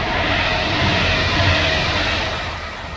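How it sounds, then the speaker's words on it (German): Trains rolling through a railway station while travellers wait for a connection to Bremen, a steady, loud broadband rumble and rush that swells slightly midway and then eases off. "Wir werden von Zügen belästigt."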